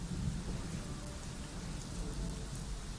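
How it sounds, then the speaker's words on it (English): Steady heavy rain with a low rolling thunder rumble in a prehistoric wildlife park game, constant and fairly close, with no speech over it. "Dang, that thunder sounds awesome."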